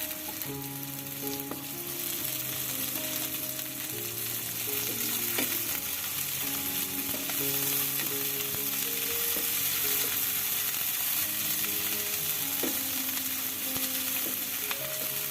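Garlic and ginger paste fry with cauliflower in a pan, a steady loud sizzle running throughout with scraping stirs on top and a faint mechanical whir beneath, no voices.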